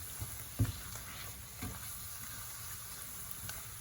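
Whole wheat flour being stirred into a pan of sizzling fat for a Jägerschnitzel sauce, a faint steady frying hiss with a few soft scraping stirs.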